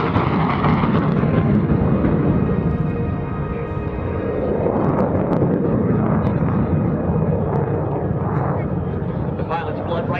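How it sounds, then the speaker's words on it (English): Jet fighter with a VK-1F engine lighting its afterburner at an air national guard open house airshow, a loud sustained roar with broad rumbling noise and some swelling, under an announcer talking over a PA throughout. "The VK-1F engine made it the first production jet fighter in the world with an afterburner."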